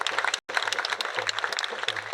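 An audience applauds at a theatre-renovation announcement for the Théâtre Populaire Désiré Bonogo, the clapping dense and steady, broken once by a short silence.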